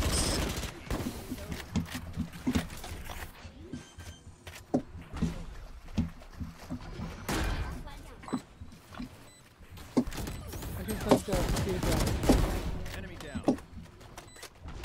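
Gunfire rattles during a Valorant match, with irregular bursts and single sharp shots spread across the stretch, some louder and nearer, mixed with other game effects.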